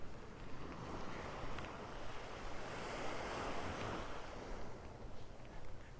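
Waves wash steadily onto a beach in North Naples, Florida, a constant fairly soft roar of surf blended with wind rumbling on the microphone, with no voices.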